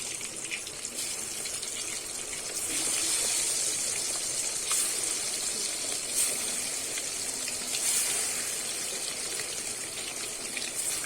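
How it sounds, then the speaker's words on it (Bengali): Chicken pieces for Bengali chicken kosha fry in hot oil with a dense, continuous sizzle that rises slightly partway through and holds steady, close and fairly loud, with no talk. "একইভাবে আর যেগুলো আছে কিন্তু আমি একইভাবেই ভেজে নেব।"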